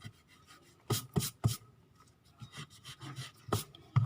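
Eraser rubbing against paper while clearing a sketch of a cube's space diagonal, heard as a series of short, sharp scrubbing strokes in uneven bursts, close and fairly quiet with no talking.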